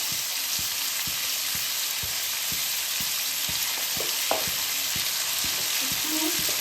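Frying with turmeric and salt in a pan for a Bengali hilsa-head pumpkin and pui shak dish: a continuous sizzling hiss, with regular stirring knocks and scrapes roughly every half second and no talking.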